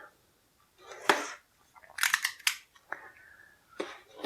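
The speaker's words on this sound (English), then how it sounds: "We've got a piece of tape over here on the side holding this in, so we're just going to go ahead and cut that off real quick." Scissors or a blade snipping through packing tape on the side of a boxed G.I. Joe toy set, a few sharp close cuts and rustles separated by short pauses.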